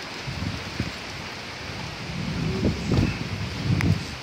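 Severe storm near Willcox, Arizona, with steady rain and strong wind roaring in broadband wash, a few low gusty swells and rumbling surges building toward the end, no voices.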